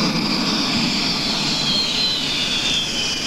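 Aircraft engine roaring steadily at a 1988 air meeting in Yverdon as the plane, stuck on grass, is throttled up to move, with a loud continuous drone and a slowly rising whine.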